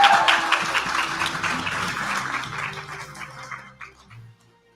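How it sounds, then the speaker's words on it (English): An audience at an award ceremony applauds, a dense wash of clapping that starts loud and gradually thins and fades away over a few seconds. "Let's all give an amazing round of applause and a congratulations to Tanya Rydat."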